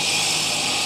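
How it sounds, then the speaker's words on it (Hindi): Construction drilling runs nearby as a loud, steady, unbroken whirring roar, picked up by a DIGITEK DWM 101 wireless microphone with no noise cancellation. "कुछ तो ड्रिलिंग वगैरह चल रहा है"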